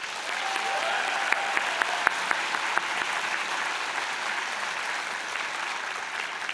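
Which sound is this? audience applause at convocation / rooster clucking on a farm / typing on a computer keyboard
audience applause at convocation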